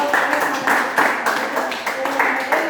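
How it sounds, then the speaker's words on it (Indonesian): Classroom applause breaks out in rhythmic bursts of clapping from a group of students, several waves of hand claps in a row, fairly close and moderately loud, with a voice speaking over it. "tepuk tangan sekali lagi"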